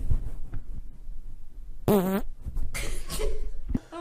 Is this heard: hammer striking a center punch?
no